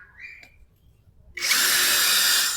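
JIAPU SS-168-100 16.8V brushless cordless drill boring into a lightweight concrete block; after a quiet start with faint knocks, the motor spins up abruptly into a loud, steady high whine with grinding, close by.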